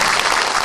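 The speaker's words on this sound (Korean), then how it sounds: "박수 한번 쳐드리세요" A short burst of audience applause at a book launch event for a lawmaker, dense and even clapping from many people, loud and continuous for under a second.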